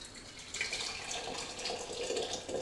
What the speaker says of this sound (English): you're going to put about a cupful of boiled water in there